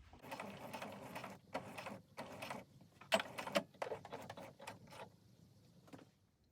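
A sewing machine runs a stay stitch along a garment collar in short, quiet bursts of rapid mechanical whirring separated by pauses, with a few sharper clicks midway, close by and free of speech.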